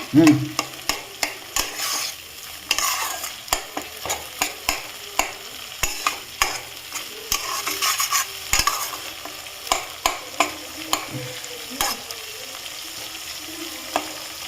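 Mustard paste frying in a pan while a spatula stirs it, steady sizzle broken by repeated sharp scraping strokes at a quick, fairly regular rhythm, close and moderately loud with no talking.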